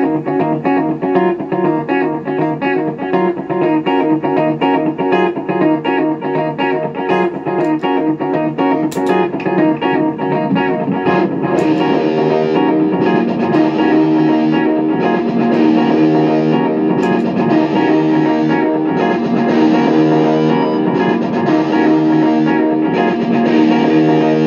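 Distorted, effects-laden guitar music from the Creepy Crawly Cave theme of the game Drilly Willis plays continuously and loudly, a repeating riff looping over and over without pause or voices.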